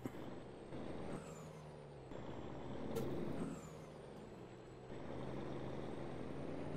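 Truck being moved in Farming Simulator 22, a low idling engine drone broken by sharp hissing air-brake releases at about one and three seconds, steady and fairly close.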